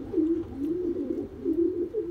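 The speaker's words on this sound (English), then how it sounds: "I got this pigeon here" A racing pigeon coos nearby in a low, throaty, rolling series of repeated phrases, alone without any talking.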